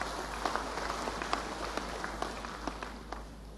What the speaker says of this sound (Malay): Kita berikan tepukan bergemuruh sekali lagi pada Duli tuanku.